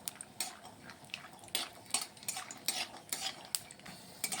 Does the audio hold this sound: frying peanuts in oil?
yes